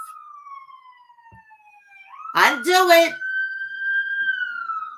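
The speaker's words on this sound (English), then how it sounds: "There's an ambulance going by." An ambulance siren wails past, its falling and rising tone sweeping across the clip, with a short burst of nearby speech cutting in midway over the siren.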